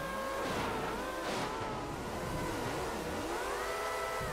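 Engines in a PS2 racing video game whine and waver as the pitch dips and climbs through gear changes, a continuous mid-loud synthetic drone with no voices over it.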